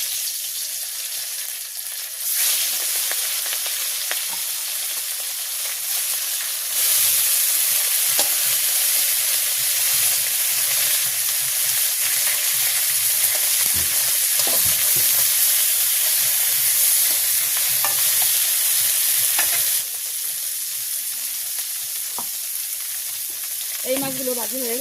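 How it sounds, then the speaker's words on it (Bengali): Fish frying in hot oil in a pan in a village kitchen, a loud, continuous hissing sizzle that swells louder partway through and then eases, with faint occasional clicks of handling. "তো অন্য মাছগুলো এখন ভাজি করে নেব।"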